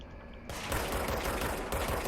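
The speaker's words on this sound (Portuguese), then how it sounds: "Ó, tem zumbi atirando também." Gunfire rings out while zombies are shot in the video game Control, a quick burst of repeated shots beginning about half a second in and continuing as a dense rattle, fairly faint, with no voices.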